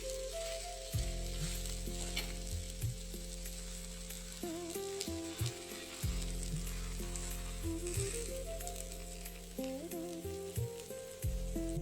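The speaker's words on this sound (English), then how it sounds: "Place it gently on the preheated pan." A mooli thepla sizzles on a hot, oiled, preheated pan, making a soft, steady crackle up close, with low music playing underneath and no voices.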